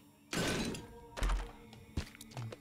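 Bomb going off in The Binding of Isaac: Repentance, a loud, sharp burst followed by a heavy thump and a few smaller crumbling knocks and clatters, all quick and close with no speech.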